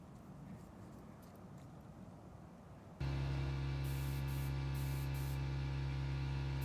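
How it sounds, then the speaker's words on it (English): Spray gun applying pre-catalyzed lacquer vinyl sealer to a vintage magazine table, a steady loud hiss of compressed air and atomized finish that starts abruptly after a quiet stretch, with a constant hum under it. "I'm going to start by spraying a pre-catalyzed lacquer vinyl sealer as the first coat."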